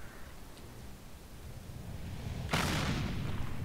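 A tank cannon fires in World of Tanks, a single sharp, loud boom with a decaying rumble partway through, over a steady low engine drone.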